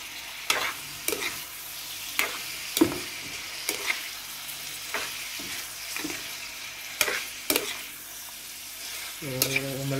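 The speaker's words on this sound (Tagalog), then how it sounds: "At syempre hahaluin natin." Bihon guisado rice noodles with vegetables are stirred in a sizzling frying pan, a steady close hiss with repeated sharp utensil scrapes and clanks against the pan at an irregular rhythm, with a short low tone near the end.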